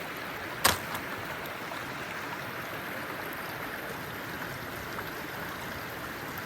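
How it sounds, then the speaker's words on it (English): Mill Creek runs as a steady broadband wash of flowing water, even and continuous throughout, with a single brief sharp knock near the start and no talking. "That's a pretty cool creek."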